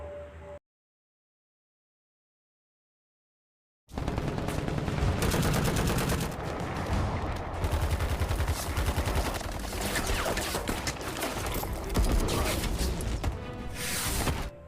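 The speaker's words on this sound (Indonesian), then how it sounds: "Pasukan khusus Turki perlahan bergerak mendekati lokasi tersebut, hingga terjadi kontak senjata." Gunfire rings out in a firefight between Turkish special forces and ISIS, a dense, sustained burst of loud shots and rapid fire that starts abruptly after a few seconds of silence.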